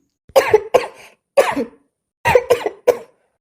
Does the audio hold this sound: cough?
yes